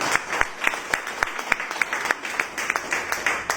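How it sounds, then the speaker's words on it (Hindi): Loud audience applause at a motivational talk, dense steady clapping from a crowd for a company leader, close and sustained throughout. "उनके लिए एक बार जोरदार तालियां बजाएं"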